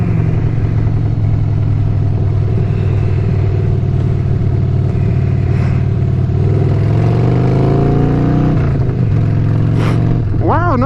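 A motorcycle engine drones loudly under wind noise as the rider shifts into third gear, the pitch sweeping up as revs climb, then dropping and rising sharply again near the end, with someone talking over it.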